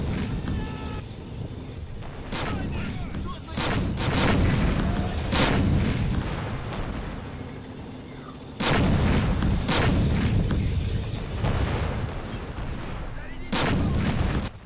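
Tank cannon fire and explosions in the Men of War Assault Squad game, with repeated heavy booms and rumbling blasts over continuous battle noise, loud and close, arriving in irregular clusters throughout.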